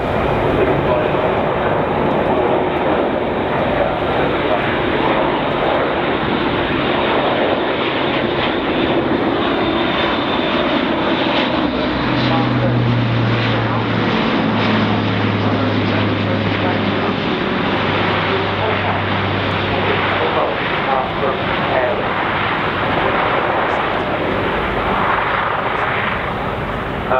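Airbus A400M military transport with turboprop engines at an air show, heard as a steady, loud broadband engine roar with low droning tones, under crowd and wind noise throughout.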